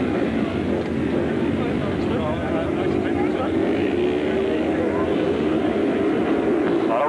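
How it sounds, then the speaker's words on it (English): Several longtrack racing motorcycles rev hard together at the start line of a 1980s race, a dense, sustained engine roar that stays loud and steady throughout. "a lot of revs from the top of the hill"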